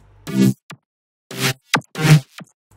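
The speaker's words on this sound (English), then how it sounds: "Now I'll talk a bit more about the mid basses for the drop." Mid bass synth patches from Serum for an electronic drop, sounding as a few short, loud, gritty stabs with silent gaps between them.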